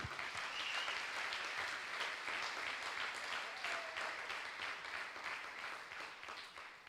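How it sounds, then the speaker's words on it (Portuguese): Congregation applause during a Portuguese-language church service: sustained, dense clapping from a crowd that carries on evenly for several seconds, faint and slightly distant. "Dê uma salva de palmas para Ele"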